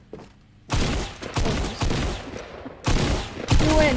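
Gunfire in a shooter video game, loud bursts of rapid shots in several separate volleys, close and dense, with no speech over them.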